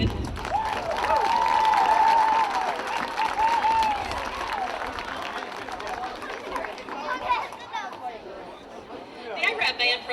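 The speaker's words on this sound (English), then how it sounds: "let's give a round of applause for all those band members" Applause and crowd chatter rise from spectators at a high school football game broadcast as the band members are honored, with a whistling tone early on and a noisy, fluctuating crowd wash that thins toward the end.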